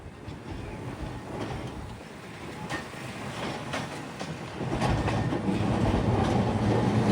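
An Anpanman-themed train passes in Kochi, Japan, rumbling with a steady rolling clatter of wheels on track, growing louder toward the end.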